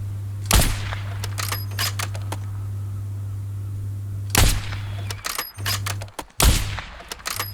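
Sniper rifle fire in Warzone, a few sharp cracks in two clusters, with clicking mechanical bolt sounds between them over a steady low hum, close and loud, no voices.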